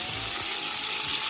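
Short ribs browning in hot oil in a stainless steel Ninja Foodi pot, a loud steady hissing sizzle with a few low bubbling pops, close and continuous with no pause.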